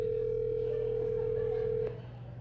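A steady electronic telephone tone on an outgoing call holds at one pitch for about two seconds, then cuts off abruptly, leaving faint room noise.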